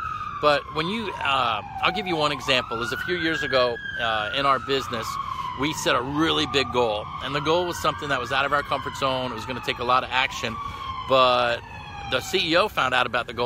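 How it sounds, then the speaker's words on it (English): Police sirens wail in the background, a rising and falling tone that repeats steadily beneath continuous talking from a nearby man. "like or love if you hear the sirens in the background."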